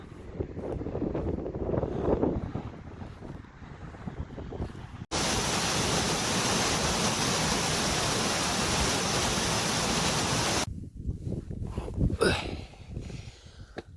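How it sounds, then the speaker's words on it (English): A mountain waterfall on a fell walk roars as a broad, steady rush of water, loud and close for several seconds in the middle, with fainter outdoor wind and footsteps before and after. "Just walking past the waterfall now."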